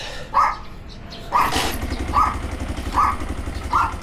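A Keeway CR 152 motorcycle is kickstarted and settles into a low, steady idle close by, while a dog barks repeatedly at even intervals over the engine.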